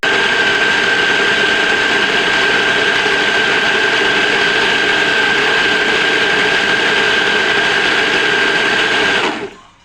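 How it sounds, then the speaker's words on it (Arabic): A kitchen blender grinds frozen seasoning ingredients with a large spoonful of tomato paste, running as a loud, steady whirring drone for nearly ten seconds before shutting off abruptly. "وارجع تاني احطها على الخلاط يتطحن كل"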